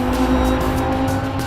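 Lamborghini Huracan LP 610-4, a naturally aspirated sports car, accelerating hard with a loud, steady engine roar that holds close and constant throughout, with no talk over it.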